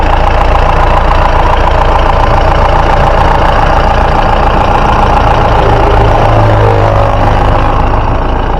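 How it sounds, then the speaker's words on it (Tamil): A Mahindra Bolero engine idles steadily up close, a loud, even rumble with a low throb that holds without change throughout. "வண்டியோட இன்ஜின் சவுண்டாக அமைதியாக கேளுங்க"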